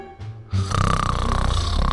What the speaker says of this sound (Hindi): कुछ ही क्षणों में उसने खर्राटे मारने शुरू कर दिए।